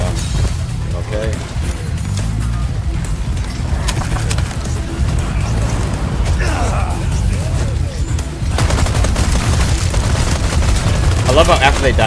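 Gunfire in Resident Evil 4 Remake rattles in loud, rapid bursts and repeated shots throughout, with booming impacts, while people talk over the shooting.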